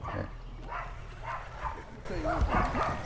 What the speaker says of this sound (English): But these dogs here yap so much.